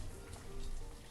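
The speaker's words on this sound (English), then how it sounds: "it's raining like hell." Heavy rain in the video game Banished makes a dense, steady hiss over a low rumble, continuous and fairly close with no talking.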